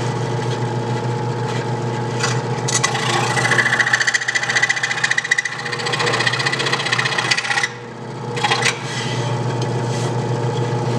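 Power saw trimming a small piece of wood for a mousetrap car, a steady close whirring motor with a rasping cutting texture that rises while biting into the wood, dips briefly near the end, then picks up again.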